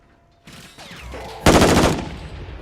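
Gunfire in the military shooter game DMZ rings out close and loud, a few shots followed by a heavy burst of rapid automatic fire that tails off.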